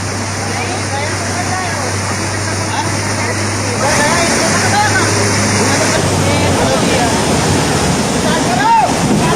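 Floodwaters surging over a bridge in Gujarat or Madhya Pradesh during heavy rain, a loud continuous roaring rush of water with a bus caught in the torrent, swelling stronger partway through.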